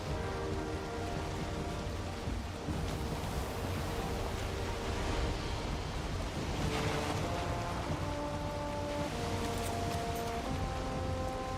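Wooden sailboat cutting through ocean waves in the Valheim video game, a steady wash of water and rain-like splashing with a droning music bed underneath, continuous and fairly even throughout.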